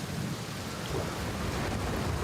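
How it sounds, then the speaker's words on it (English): Steady storm ambience from a thunderstorm in the video game Outer Wilds on Giant's Deep, with continuous heavy rain hiss and deep rumbling thunder filling the whole stretch, no voices. "the thunder and lightning is red"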